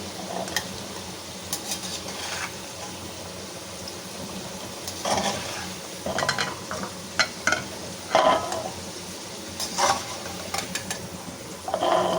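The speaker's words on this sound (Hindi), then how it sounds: "आलू हमारे फ्राई हो चुके हैं, इन्हें अब हम निकाल लेंगे।" Potatoes being stirred in hot frying oil on a stovetop, with a steady sizzle under repeated scraping and clinking strokes of a utensil, close and fairly loud, with no talking.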